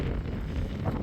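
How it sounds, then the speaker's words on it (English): Strong wind on a farm in the early afternoon, buffeting the microphone as a brief, loud, low rumbling gust with no talking. "It is extremely windy."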